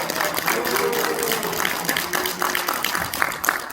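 Audience applause welcoming an author at a dental-community book concert, moderate clapping from a seated crowd that carries on throughout, with a voice faintly audible over it.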